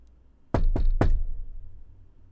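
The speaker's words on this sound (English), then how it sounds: "giving the door 3 quick knocks" Three quick knocks on a wide arching door, sharp and close, struck in fast succession after a half-second of quiet, with nothing else heard.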